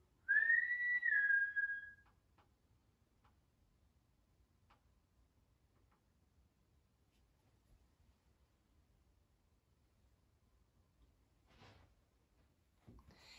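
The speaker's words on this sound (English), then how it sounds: "I've heard so like many whistles tonight." A single clear whistled note glides up and down for about two seconds inside Mill Street Barracks, UK, followed by near silence with faint, scattered ticks.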